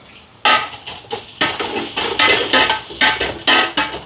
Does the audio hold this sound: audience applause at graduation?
no